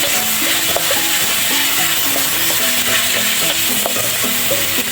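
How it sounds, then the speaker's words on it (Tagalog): Meat for a Taiwanese dish sizzles loudly in a hot pan as it is stirred, with a constant crackling hiss and intermittent scraping under it and no talking. "Mag-prito muna tayo, mag-isa muna tayo ng karne,"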